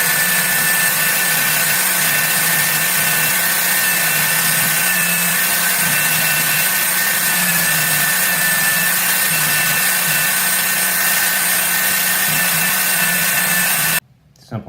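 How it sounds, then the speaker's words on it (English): A belt sander smooths the profile of a wooden serving tray handle, a loud continuous whine and rushing hum held steady close up for about fourteen seconds before stopping suddenly. "I'm going to use the edge of my belt sander here to kind of clean up this profile and make it a little bit nicer"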